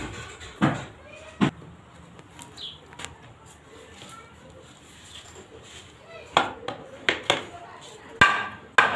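Sharp, separate knocks of a hammer strike a wooden window door frame joint, a few spaced blows and then a quicker cluster close by, with someone talking between them.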